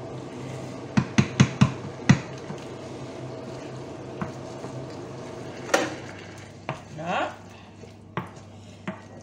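A spoon stirs chopped tomatoes through a preparation in a pan, giving a cluster of sharp clinks and scrapes early on, then scattered knocks and a brief wet swirl over a low steady background.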